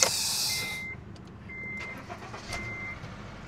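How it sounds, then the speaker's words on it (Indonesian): A Honda Brio E CVT engine starting, an opening burst settling into a low idling rumble, with a few high electronic chime beeps at intervals and no talking. "Mesin masih gereng ya dinyalainnya."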